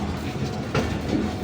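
A train runs steadily along the rails in thick fog and smog, a continuous rumbling roll with rhythmic wheel clatter close by, fairly loud and without talk.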